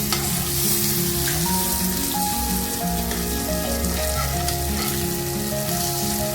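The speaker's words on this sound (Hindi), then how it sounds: "2 मिनट एक तरफ और 2 मिनट दूसरी तरफ पलट करके हमने आलू भाजा इस तरह से तैयार कर" Potato slices for aloo bhaja shallow-fry in oil in a pan with a steady, dense sizzle and crackle that stays loud and close throughout, and no one talks.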